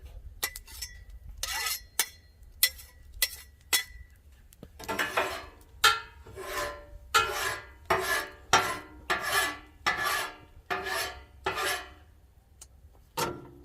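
Metal scraper rasping across a flat-top cooking griddle during cleanup after a cook, a run of repeated harsh scrapes and clinks, close and fairly loud, with no talking.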